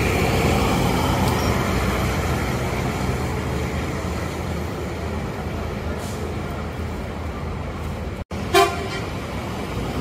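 A Rosalia Indah bus honks while departing the Kampung Rambutan terminal. Steady engine and terminal rumble runs throughout, broken near the end by a short, loud horn blast.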